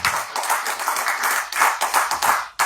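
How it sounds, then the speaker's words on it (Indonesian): A crowd at an Islamic religious gathering claps for a visiting kiai, producing uneven bursts of applause that swell and dip in waves, fairly close and loud, with no talking. "Tepuk tangan buat Kiai Haji Imaduddin Utsman Al-Bantani"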